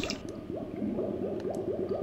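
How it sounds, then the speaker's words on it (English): Pump draining water from a flooded hallway in the Stoneship Age of the Myst game, a rhythmic gurgling, squelching cycle repeating several times in quick succession, moderately loud and alone. "Okay, it makes a strange pump sounding noise."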